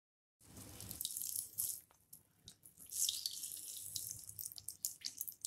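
Water squeezed by hand out of grated cauliflower stuffing for gobi paratha drips and trickles into a bowl in uneven, close spurts, with no talking.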